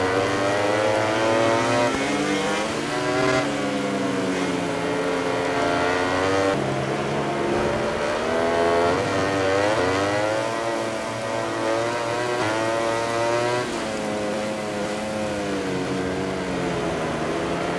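Ducati GP20 racing motorcycles in the MotoGP 20 video game at Aragon, a continuous loud engine roar with repeated rising and falling revs through gear changes, no talk.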